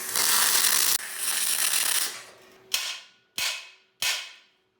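Tack welding on a steel shop gantry crane: a loud crackling arc burst for about two seconds, then three sharp ringing hammer whacks on steel, each decaying quickly, no talking.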